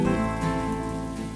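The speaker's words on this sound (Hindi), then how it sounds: "बारिश देख रही है" Steady rain falls outside a home during a monsoon shower, a continuous hiss mixed with a low droning hum at moderate loudness, with no voices.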